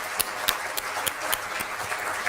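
Audience at an MBBS medical college orientation day clapping in a steady rhythm, crisp regular claps over a constant hall wash of applause.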